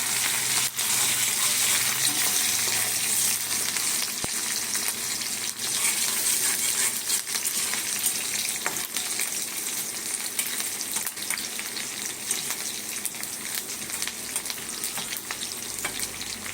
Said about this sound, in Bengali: পেঁয়াজটা একটু হালকা ভাজা হবে।